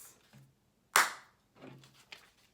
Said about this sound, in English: Clap once.